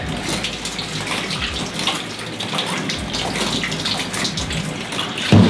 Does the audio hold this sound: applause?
no